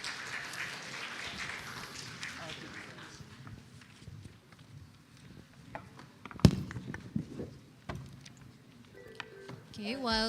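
Audience applause at an ethics bowl competition: a broad wash of clapping that fades over the first few seconds, followed by speech and room noise.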